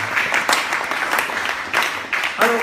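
A church congregation at a Sunday worship service applauds in a steady wash of clapping, close and continuous, with a few louder bursts through the room.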